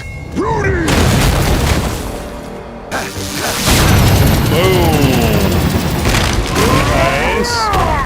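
Explosive detonations blast apart concrete in the animated superhero series Invincible, with booming crashes and rumbling debris running loud and continuous under music and dialogue from the show.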